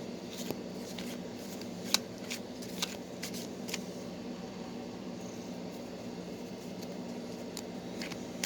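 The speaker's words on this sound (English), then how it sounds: "I'm going to shuffle them, cut the deck" Soft papery shuffling and riffling of tarot cards, with occasional sharp snaps and flicks, close by over a quiet steady background hum.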